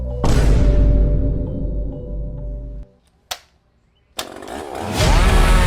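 A chainsaw roars loudly for a few seconds, then cuts out abruptly, leaving near silence broken by a sharp knock before the saw snarls back up to full power.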